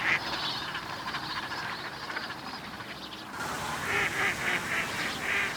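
A huge wintering flock of Baikal teal ducks calls over the reclaimed farmland and lake at Seosan, a dense, continuous chorus of overlapping nasal calls that grows louder and more clustered near the end.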